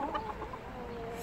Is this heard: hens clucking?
yes